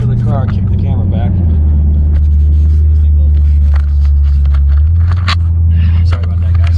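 A Chrysler Hellcat accelerates hard with a deep, loud engine rumble heard from inside, the low roar rising and holding, with scraping and rattling cabin noises and a voice speaking over it.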